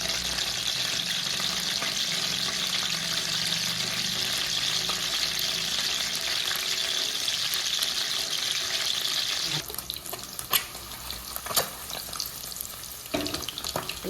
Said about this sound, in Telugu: ఇలా చిన్నగా వేగితే సరిపోతుందండి.